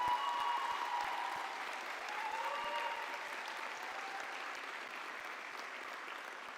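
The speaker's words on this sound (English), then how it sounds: "give them a round of applause for all they've done to support you on your journey to this day" Graduation ceremony audience applauding at a university commencement, a steady wash of many hands clapping, distant and moderately faint, sustained evenly throughout.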